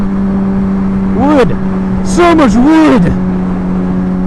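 A 2006 Kawasaki Ninja ZX6R 636 with Two Brothers undertail exhaust drones steadily with two rising-and-falling revs, and a person speaks briefly over the exhaust noise.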